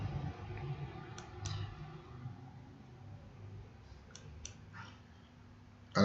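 A computer mouse gives a few faint, sharp clicks in pairs, spaced a few seconds apart against a quiet room background.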